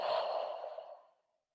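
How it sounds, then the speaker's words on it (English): Deep exhale during a guided breathing exercise, a single long airy breath out, close and soft, tapering away to silence after about a second. "And exhale."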